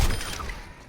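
A single soft, muffled shot from a foam NERF-style gun in the video game Overwatch 2, a short thump that quickly fades with a faint airy tail and no talking.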